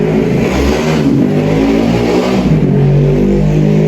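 A motorcycle engine outside roars past, a loud, continuous revving rumble that swells and eases slightly over a few seconds, with no talking over it.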